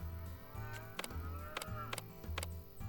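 Cows lowing in the Farm Manager 2021 video game as the animals are delivered, several repeated low moos spread across the clip over a steady game-music background, with no speech.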